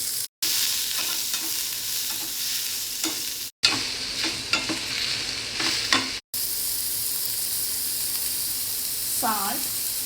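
Thinly sliced onions with turmeric sizzle steadily as they are stirred and fried in a pan for a rice side dish, with spatula scrapes over a constant hiss broken by a few brief gaps.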